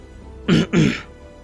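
Someone clears their throat nearby in two short, rough bursts, with quiet surroundings before and after.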